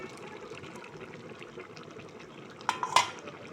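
Water poured into a pot of rajma (kidney bean) curry with paneer, a low running trickle and stir under faint kitchen clatter, then a couple of sharp utensil clinks against the pot near the end.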